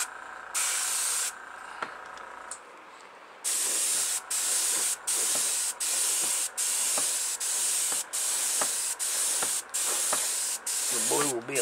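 Testors Aztek airbrush spraying light coats of acrylic paint onto a model car body, its compressor set to 26 psi; steady hissing bursts repeat in a regular on-off rhythm, close and fairly loud.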